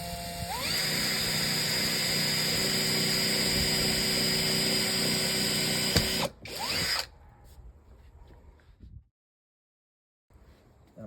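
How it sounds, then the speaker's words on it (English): A power drill whines loudly and steadily for about six seconds drilling a hole while installing a Ring camera, then cuts out, leaving quieter rattling handling sounds and a brief silence. "I'm just gonna drill the first one."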